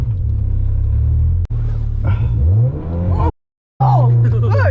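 A turbocharged Honda build's engine drones loud and close from inside the moving car, a steady low rumble with shifting pitch as it revs, cut by a brief dropout partway through, while people talk over it.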